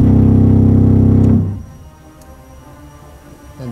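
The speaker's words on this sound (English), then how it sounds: "a 16-foot diaphone, which sounds like this, lowest pipe on the organ." A Wurlitzer theatre organ's 16-foot diaphone, its lowest pipe, sounds a loud, deep, buzzy bass tone for about a second and a half, then cuts off and leaves a fading room echo.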